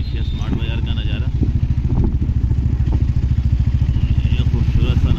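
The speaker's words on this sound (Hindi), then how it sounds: "अभी अपना बाइक इधर पार्किंग में यहाँ से निकल रही है" A motorbike pulls out of a parking area, its engine thumping in a fast, steady pulse close to the microphone. A voice is briefly heard over the engine.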